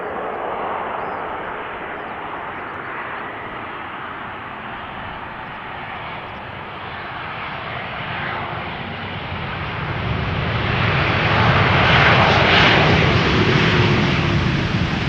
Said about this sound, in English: This is TUI flight 375, arriving from Punta Cana.